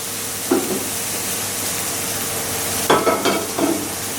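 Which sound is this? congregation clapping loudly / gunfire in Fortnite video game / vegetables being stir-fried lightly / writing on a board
vegetables being stir-fried lightly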